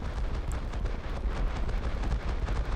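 Torpedo dropped from an aircraft in a naval video game, heard as a rumbling, explosive roar of engine and water noise with low booming surges, loud and continuous, without talk.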